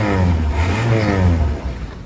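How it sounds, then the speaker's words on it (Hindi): A 1995 Honda Civic engine turns over and revs, a loud rough rumble rising and falling steadily without any voices. "चलो भाई इंजन का साउंड मैं तुम लोगों को सुनाता हूँ"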